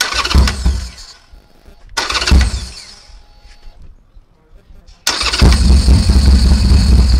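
A 2014–2021 Harley-Davidson Sportster motorcycle cranks in loud bursts, stalls between attempts, then fires and settles into a loud, steady idle close by.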